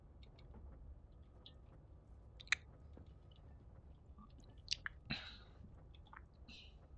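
Salsa verde Doritos chips crunched and chewed close to the mouth, a few sharp crisp bites standing out over soft, quiet mastication.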